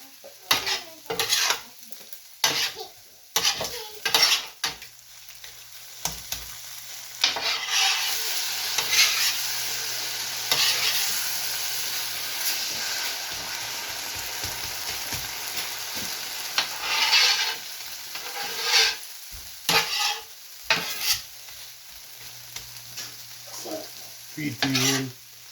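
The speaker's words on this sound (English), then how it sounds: "Put just a little bit more sauce. Stir it. Let it cook down." Stuffed pepper filling with sauce sizzles on a Steelmade USA flat top griddle while a utensil scrapes and stirs it in repeated bursts, with a steady frying hiss beneath the close metal clatter and no speech.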